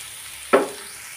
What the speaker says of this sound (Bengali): মিক্সড করব আর এই টমেটোগুলো চেপে চেপে ভর্তাটাও করে নিব